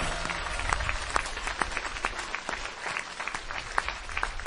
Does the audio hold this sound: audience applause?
yes